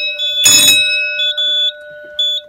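A fire alarm set off by flipping the switch on a pull station during a system test: steady electronic alarm tones ring on throughout, with a brief loud broadband burst near the start and pulsing tonal accents layered over the continuous signal.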